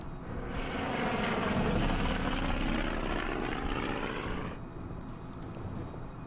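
A propeller scout plane engine drones in the Order of Battle war game, a steady, loud, buzzing hum that holds for several seconds and then drops away into quieter background.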